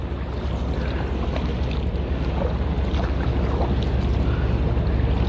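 A massive offshore vessel with a helipad on top, the Scandi Neptune, runs its engine near a dock: a steady, dense low rumble mixed with wind buffeting the microphone, continuous throughout with no speech.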